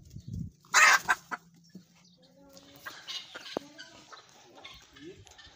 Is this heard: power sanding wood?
no